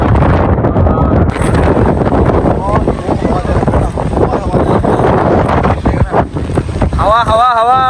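Strong wind buffets the microphone on a hillside highway near Jatinga village in Dima Hasao, a loud, continuous roaring rush with people talking underneath.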